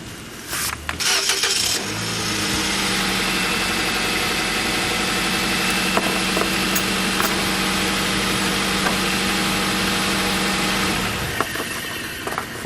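Engine of an 2008 Nissan Versa starting by remote start and settling into a steady idle, a close, loud continuous hum with a constant low drone and no talk.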